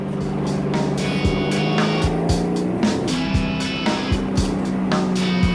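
A race car accelerates hard on a road course during a NASA race, its engine roaring loud and close with rising tones and regular upshift breaks, while another car, a Miata, is passed.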